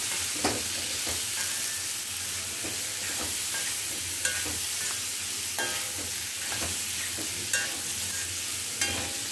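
Cheesy garlic potato with cheese cubes and coriander is mixed in a hot pan, a steady soft sizzle broken by periodic scraping and tapping strokes of a spoon, close and without talk.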